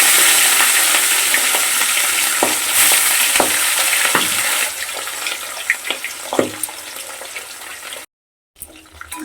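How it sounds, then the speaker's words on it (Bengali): Pieces of fresh pond rohu fish fry in hot oil in a wok with a steady, loud, close sizzle and occasional spatters and stirring clatter. The sound drops out briefly near the end. "তেলটা গরম হয়েছে বন্ধুরা মাছগুলোকে ভেজে নেব"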